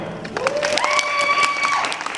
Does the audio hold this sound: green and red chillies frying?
no